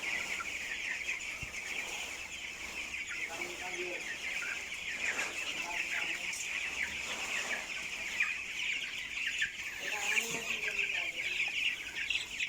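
A flock of broiler chickens about sixteen days old fills a grower house with continuous high-pitched peeping and clucking, steady throughout, with faint human speech underneath.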